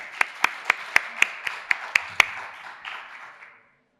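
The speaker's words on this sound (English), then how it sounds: "Give him a round of applause." About nine sharp, evenly spaced claps ring out close by as an audience welcomes a volunteer at a talk, then fade into a short tail before silence.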